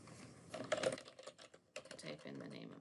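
A short, close burst of typing on a computer keyboard, rapid uneven key clicks with a brief pause midway, while entering a gradebook category name.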